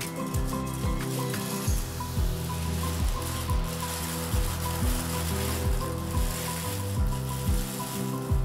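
Eggshells dry in a hot pan, giving a steady, close sizzling and frying crackle that runs continuously without pause.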